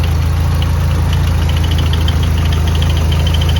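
A project car's engine idling, loud and steady throughout with a constant low rumble and even mechanical vibration, no talking.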